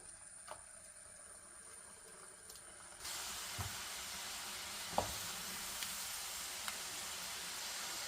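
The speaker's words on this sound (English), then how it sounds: "Now we have put in the dough pieces" Dough pieces for sugar-coated flour snacks (hajoor paniyaram) drop into hot oil, and a quiet, steady sizzling hiss follows, with a few small pops and clicks.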